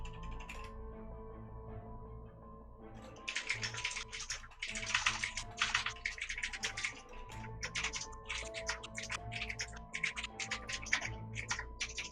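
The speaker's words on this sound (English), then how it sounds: "is that Smashy's keyboard I'm hearing" A computer keyboard clatters in bursts of rapid typing, picked up faintly over a streamer's microphone during an Ori and the Blind Forest speedrun race, with a steady low hum underneath.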